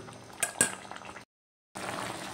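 Broccoli curry simmering in a pan, soft bubbling with a couple of sharp clinks early on, then a short silent gap before the steady bubbling resumes.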